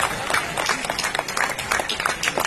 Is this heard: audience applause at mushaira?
yes